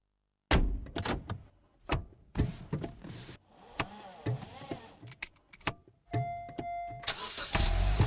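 Honda Civic car in a TV advert, its engine starting amid a sequence of clicks, door thuds and mechanical taps, then a rising running engine with a sustained tone near the end.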